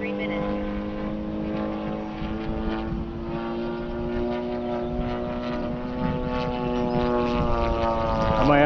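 A model FW-190A8 airplane engine runs at full throttle with a steady, buzzing propeller drone that holds a constant pitch and swells slightly toward the end, heard close with people talking over it.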